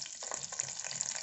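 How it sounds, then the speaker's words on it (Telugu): Whole biryani spices, bay leaf and green chillies sizzle and crackle steadily in hot oil for tomato rice, a close, continuous frying hiss with small pops and no talking. "ఆయిల్ వేడెక్కింది, అందులో బిర్యానీ మసాలా వేసుకుందాం."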